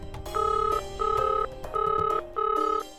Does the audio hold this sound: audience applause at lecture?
no